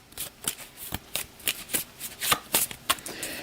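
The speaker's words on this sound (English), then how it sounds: "So I'll give this whole thing a shuffle." A deck of cards for the Undaunted 2200: Callisto board game gets shuffled by hand in quick, uneven bursts of riffling and snapping, close and fairly quiet, with no talking.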